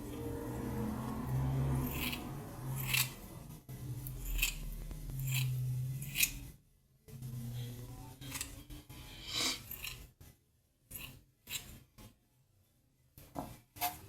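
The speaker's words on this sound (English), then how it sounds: "I'm gonna trust you with these scissors." Repeated crisp scissor snips cutting hair close to the ear, irregular bursts with brief pauses and soft rustling between cuts, no talking.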